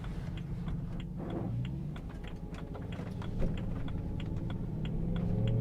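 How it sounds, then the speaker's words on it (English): Dual clutch transmission of a BMW E93 M3 with a new transmission mount, heard from inside the car: a soft engine drone with faint, regular ticking clicks of engagement notching, quiet and steady with no talk. "I do like that you can hear and feel the engagement of the clutch"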